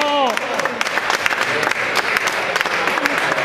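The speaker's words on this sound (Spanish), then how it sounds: "Un aplauso para los campeones" Crowd applause at a wrestling club's anniversary trophy ceremony honoring the champions, steady dense clapping throughout with a voice speaking briefly over the start.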